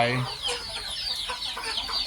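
Chickens cluck in short bursts at close range as they peck mosquitoes off a standing farm animal's nose, the calls overlapping in a busy, uneven rhythm with no talk.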